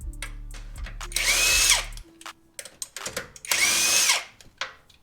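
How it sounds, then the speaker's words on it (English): A power impact tool spins lug nuts off a car wheel, two loud whirring bursts with clicks and handling noises between them. "Power tools, baby."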